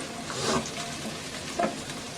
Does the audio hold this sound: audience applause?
no